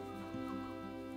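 Silver Laced Wyandotte chickens give a brief, soft, low cluck close by, with a quiet steady hum underneath.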